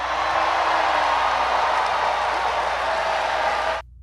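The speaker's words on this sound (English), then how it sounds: "there's everybody cheering" A large crowd cheers and applauds in a steady, loud, dense roar that holds for several seconds and then cuts off abruptly.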